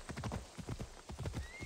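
Horse hooves clip-clopping at a steady walking rhythm after the horse is summoned in Assassin's Creed Odyssey, with a brief whinny and game ambience behind.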